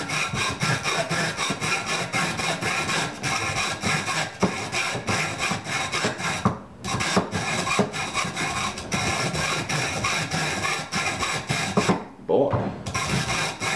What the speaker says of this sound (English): just take your hacksaw and cut it.